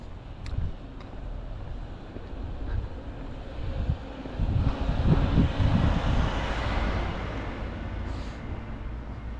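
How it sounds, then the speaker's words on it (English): Wind buffeting a microphone outdoors, a low rumbling gusty roar that swells and eases over several seconds. "Windy a little bit."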